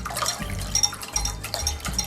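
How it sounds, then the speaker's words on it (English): Cold water poured into a gelatin mixture in a bowl, a close liquid splashing and gurgling with small clinks, continuous and moderately loud throughout. "now I'm ready to put the cold water into the gelatin."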